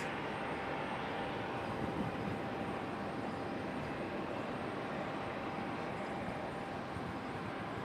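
An American Airlines Embraer E175 jet airliner at Raleigh-Durham International Airport makes a steady, broad engine roar that holds at an even level throughout, with no talk.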